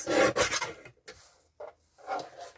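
A paper trimmer slices through card for Christmas cards, with a few short scraping rasps close by, separated by brief quiet gaps.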